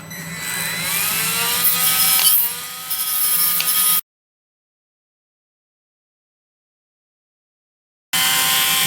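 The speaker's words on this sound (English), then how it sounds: "Alright, so we got a brass wire wheel on a Dremel-esque tool," A brass wire wheel spins on a small Dremel-style rotary tool run at low speed, whirring steadily up close for several seconds, then cutting out to silence before resuming abruptly.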